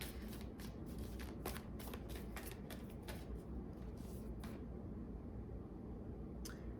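Tarot cards are shuffled and drawn, producing a quiet series of crisp riffling flicks and snaps, close and faint over a low background hum.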